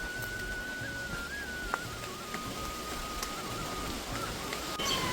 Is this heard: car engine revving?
no